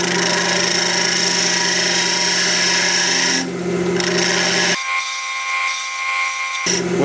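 A wood lathe turns a Christmas mushroom ornament while a tool cuts the body, a continuous close rasping hum with a steady motor tone underneath and a brief change in texture partway through; no talk.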